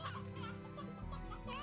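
Hens clucking in the Slime Rancher video game, a short burst of close, busy fowl clucks over a steady game background hum.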